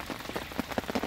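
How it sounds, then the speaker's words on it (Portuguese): Rain falls steadily at a reservoir during a fishing trip after a storm, a dense, even patter of drops hitting the surface with no voices. "A chuva que tá aqui hoje, ó. Tá chovendo"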